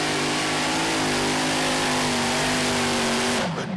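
Light modified class pulling tractor "On the Limit" at a tractor pull event, its engine roaring loud and sustained at high revs with a steady droning tone before the pitch drops and cuts off at the end.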